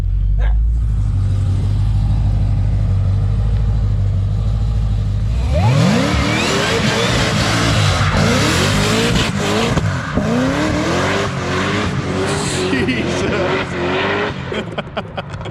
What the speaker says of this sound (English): Well, I think it'll do a burnout just fine.